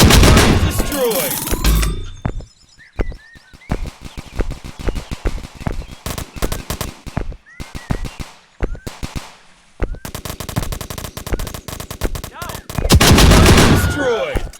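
A rapid shotgun glitch in a video game, firing in dense bursts of sharp cracking shots separated by short quieter gaps, with a loud heavy barrage at the start and again near the end.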